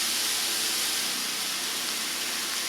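Meat for a pizza sizzles loudly in a hot pan, a steady dense hiss that stays close and constant throughout.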